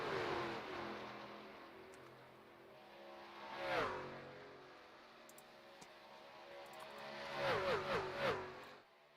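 Race trucks at Pocono Raceway passing on the track, engine drones rising and falling as they sweep by, first one pass and then a tighter cluster drafting together, moderately distant.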